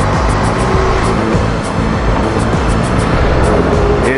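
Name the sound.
car driving past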